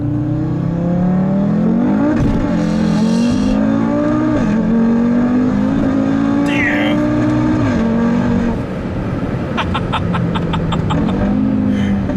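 A tuned 650 WHP Audi RS3 accelerates hard from second gear around 4,000 RPM, a loud droning engine note climbing in pitch through gear changes, heard from inside the car with faint voices under it and some clicking near the end.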